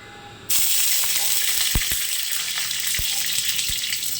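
Carrots and red amaranth greens hit hot mustard oil in a pan and start a loud, steady sizzle that carries on with a few sharp crackles.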